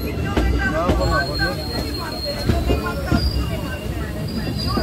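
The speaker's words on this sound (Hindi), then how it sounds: "अब हमारी ट्रेन उमेश नगर पहुंच रही है।" Passenger train pulling into Umesh Nagar station on the Saharsa–Jamalpur line, with steady wheel rumble and rail clatter, repeated wheel-over-joint thumps and a faint high squeal, continuous and close throughout.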